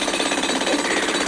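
A loud, continuous rapid whirring rattle of a power drill, steady and close for a brief burst.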